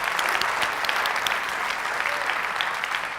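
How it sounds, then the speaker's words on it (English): A large audience at a PechaKucha Night presentation in Santa Fe bursts into sustained applause, dense overlapping claps rising and holding evenly at a lively, fairly loud level throughout. "deserve like a huge applause"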